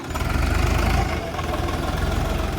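A heavy tractor engine idles close by with a low, steady, throbbing rumble and no voices.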